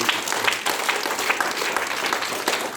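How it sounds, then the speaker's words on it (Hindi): A crowd at a sports and yoga event in Prayagraj, India, breaks into loud, sustained applause for a girl, many hands clapping together in a dense, continuous roar that carries on steadily throughout. "जोरदार ताली पहले उस बच्ची को"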